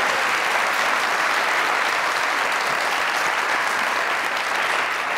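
Steady, dense audience applause on the Mazaq Raat comedy talk show, loud and unbroken from start to finish with no talk over it.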